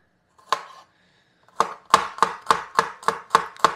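A knife chopping garlic cloves on a cutting board, with one isolated chop followed by a quick, even run of about eight crisp, close knocks.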